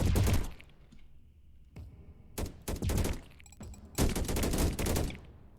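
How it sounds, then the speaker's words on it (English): Overpowered laser turrets in the swarm-survival strategy game Deep Amon fire in rapid bursts, dense crackling volleys starting and stopping in several clusters, loud and close, with quieter gaps between them. "Let's place some more of these very overpowered laser turrets"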